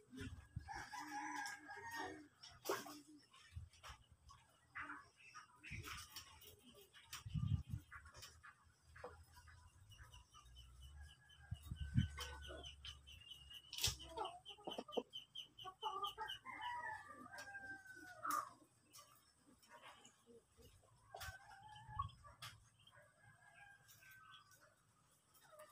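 Gamefowl roosters and hens on a breeding farm, crowing repeatedly with cock-a-doodle-doo calls and scattered clucking, several birds at varying distances, fairly loud and continuous with no talk.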